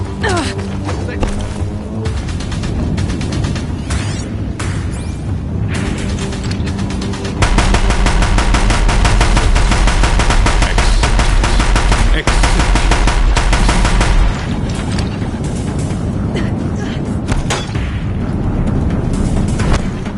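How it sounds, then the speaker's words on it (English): Deathbringer war machines in Horizon Zero Dawn pounding a bridge with sustained heavy gunfire, loud rapid bursts and booming impacts that run almost continuously, layered with music and a voice speaking. "If the Deathbringers keep firing, this bridge will go!"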